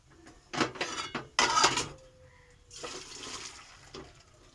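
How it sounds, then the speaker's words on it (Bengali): Water is drained from steamed taro stolons in a pan: two loud splashing pours with metallic clinks of the pan, then a softer trickle, with no talk. "এরপর আমি একটু জল ঝরাবো"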